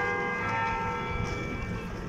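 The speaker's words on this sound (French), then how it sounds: "Ah, il y a les cloches." The bells of Notre-Dame cathedral in Paris ring in a steady, sustained peal that fills the whole short stretch, layered bell tones sounding over faint street noise.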